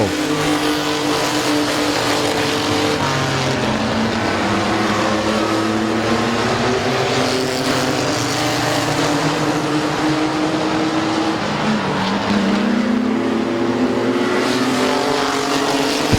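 Race cars circle Midvale Speedway, a loud continuous engine roar with overlapping rising and falling pitch sweeps as cars pass through the turns, sustained throughout.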